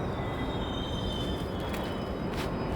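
A subway train roars along a rush-hour underground platform with a loud, constant rumble and hiss, thin metallic squeals and whines riding on top, and no voices.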